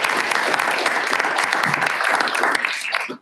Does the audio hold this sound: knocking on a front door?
no